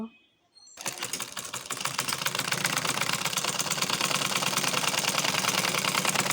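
A sewing machine stitching a kameez seam starts after a brief pause and runs as a fast, even mechanical rattle, close and steady to the end.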